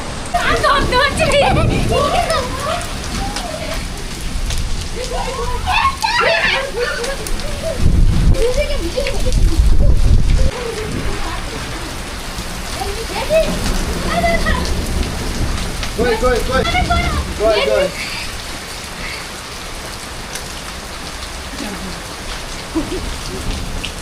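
Heavy rain and hail hammering down on a rooftop during a sudden storm over farmland, a steady loud wash with denser bursts of pelting, while people talk throughout.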